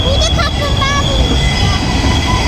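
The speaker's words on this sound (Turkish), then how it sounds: "Tramvay geliyor." Tram approaching along its tracks on a cold city street, a steady rumbling rail noise with faint wheel squeal, close and continuous.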